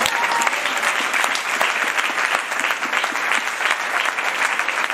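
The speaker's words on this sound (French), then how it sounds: "Est-ce qu'on peut acclamer le Seigneur?" A church congregation at a Sunday service applauds and cheers in praise of the Lord, with dense, steady clapping filling the room for several seconds.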